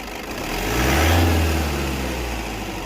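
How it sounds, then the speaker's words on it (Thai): A car engine held at steady high revs with the accelerator pedal pressed down, a continuous loud drone that swells toward the middle and then holds, with no other sounds over it. "ฮะเหยียบคันเร่งค้างไว้ เหยียบคันเร่งค้างไว้"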